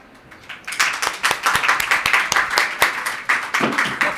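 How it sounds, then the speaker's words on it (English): Audience applause for the speakers at a COP 25 polar oceans panel session, building from a few claps into steady, dense clapping from a sizeable crowd that carries on without a break. "let's give another round of applause to our speakers"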